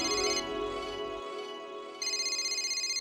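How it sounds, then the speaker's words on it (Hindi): An electronic phone ringtone plays in repeating bursts, a steady tonal melody with a brief dip in the middle, fairly close and clear with no talking. "अरे वाह, पोपटलाल का फोन आ भी गया।"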